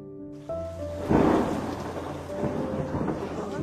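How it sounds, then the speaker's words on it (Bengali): Night thunderstorm with heavy rain pouring steadily, a loud rumble of thunder swelling after a quiet start and fading into the continuous downpour, with a tonal music-like hum underneath. "সেদিন রাত্রে ঝমঝম করে বৃষ্টি পড়ছিল।"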